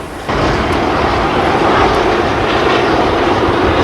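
A DJ class diesel locomotive climbs to the summit near Mackay's Crossing in Central Otago, heard from inside the cab. It gives a steady, loud, broad engine roar that stays constant throughout.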